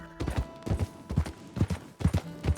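Horse hooves clip-clop at a walk in the Red Dead Redemption 2 video game, a steady, close, even rhythm of hoofbeats heard alone.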